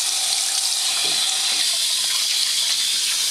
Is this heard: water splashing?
yes